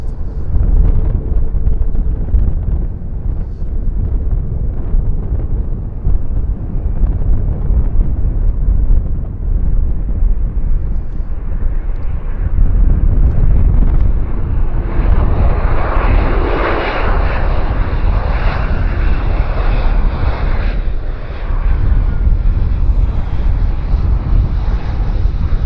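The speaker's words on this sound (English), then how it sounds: "Very small spoilers on that aircraft" A Porter Airlines airliner flies past at Vancouver Airport, its engine roar loud and sustained, a broad rumble rising in a whine as it nears, with wind buffeting the microphone.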